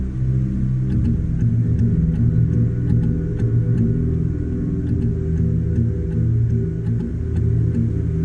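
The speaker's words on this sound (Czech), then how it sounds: "Na své čtyřkolce se přijel napít vody a neúmyslně zablokoval Daveovo auto." A quad bike (ATV) engine runs close by with a loud, steady low rumble and slight revving, its drone continuous throughout.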